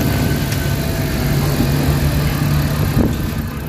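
Suzuki K6A three-cylinder engine in a DA64/DA63 vehicle, under diagnosis for oil consumption, running at a steady idle up close: a loud, continuous low rumble with an even rhythm and faint ticking, no speech.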